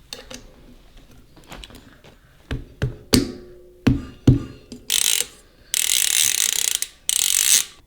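A ratchet wrench with a 1-inch socket tightens a part on a downhill mountain bike, a Norco Aurum HSP, giving sharp clicking ratchet strokes and clanks followed by several loud buzzing whirring bursts, close up with no talking.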